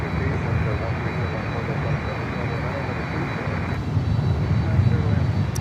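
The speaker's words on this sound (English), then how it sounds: "Next inbound is a 737" A Boeing 737 MAX 8 airliner arrives at Miami airport with a steady, broad engine roar that holds loud and continuous throughout, while a person talks over it.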